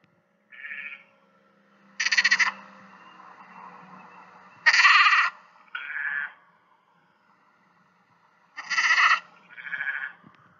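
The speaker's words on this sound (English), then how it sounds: "A lamb is a baby sheep." Lamb bleating in several short, separate calls, some higher and some lower, spaced a few seconds apart with quiet gaps, close and clear with no other voices.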